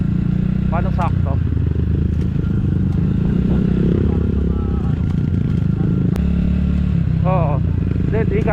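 A motorcycle rides along a rural road through farmland in Tanza, Cavite, its engine droning steadily and loud up close, with clattering from the bike and people talking over the ride.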